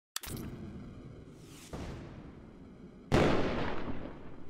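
Fireworks in the video game Build a Boat fire off in a few sharp bursts, each a booming crack followed by a rushing whoosh and crackling tail, loud and close.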